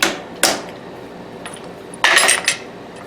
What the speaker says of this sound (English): Let's see what'll happen if I abuse my screwdriver and whack it on there with this thing